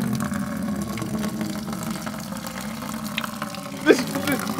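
Water drains steadily from the oil sump of a wrecked Audi RS6 GT3 engine, a continuous close pouring rush with a brief louder splash near the end.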